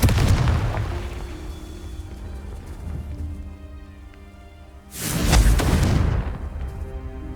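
Two booming blasts from the Confringo spell in Hogwarts Legacy: a heavy explosion at the very start that rumbles away, then a second loud burst a few seconds later.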